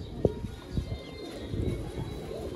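Breeder pigeons give a few short, soft coos close up with a low throaty murmur between them and little else around.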